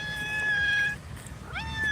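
An old female cat meows twice, close and fairly quiet, two short tonal calls separated by a brief pause, with no talking over them.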